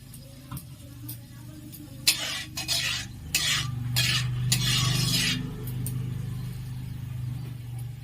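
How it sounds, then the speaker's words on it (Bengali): Cinnamon sticks and cardamom pods dropped into hot oil in a pan for Bengali chanar dalna, giving a few clicks and then a burst of crackling sizzle that settles into a steady low hiss, close and without talk. "এই তেলটিতে আমি দুটো দারচিনি দিয়ে নিলাম,"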